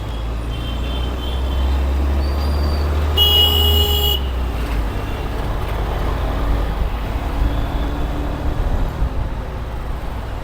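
A Honda NX200 adventure motorcycle riding through busy traffic during a brake test, with constant road and engine rumble, a loud car horn blaring briefly near the middle, and traffic noise continuing around it.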